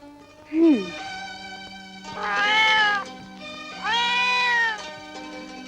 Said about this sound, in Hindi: कल ये काली बिल्ली रास्ता काट जाएगी